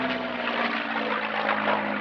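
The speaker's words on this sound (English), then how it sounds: "The aircraft is, of course, P-51D Mustang Warhorse, owned by Warbird Experiences" The P-51D Mustang warbird Warhorse flying at an airshow, its propeller engine droning with a steady tonal hum and rough buzz, fairly even in loudness across two seconds with no talk.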